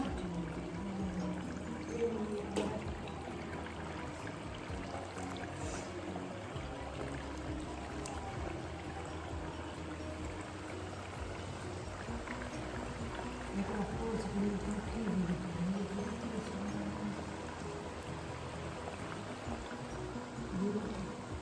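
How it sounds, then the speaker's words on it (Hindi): Thekua dough for Chhath Puja frying in hot oil, a steady, dense bubbling sizzle that runs unbroken from start to finish with a few faint background sounds. "अब हम लोग इसको, तेल भी गरम है, अब हम लोग इसको तेल में डालेंगे।"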